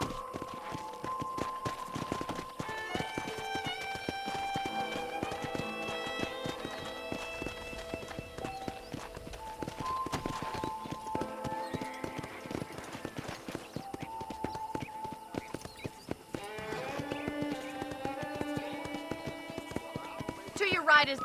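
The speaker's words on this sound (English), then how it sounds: "let's see if you can still ride a horse" Hooves of a horse being ridden around a ranch in the video game Red Dead Redemption clip-clop in a steady, fairly quiet walking rhythm, with sustained musical tones playing over them.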